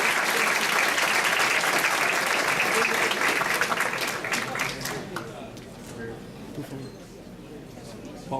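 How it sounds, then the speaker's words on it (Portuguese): An audience gives a lecturer on black holes and galaxies a big welcoming round of applause, dense clapping filling the room at first and then gradually tapering off over the last few seconds. "aquela grande salva de palmas."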